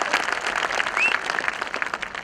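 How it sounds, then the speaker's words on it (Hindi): An audience at a business plan presentation claps steadily, a moderate, even patter of many hands with a brief whistle-like tone in the middle. "देखो यार, ताली मारनी है, मारी लो"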